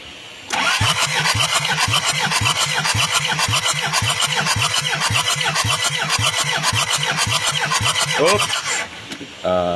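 A Kia Carnival diesel engine cranks on its starter motor for about eight seconds, a loud, fast, even rhythmic churning that never catches, then stops abruptly.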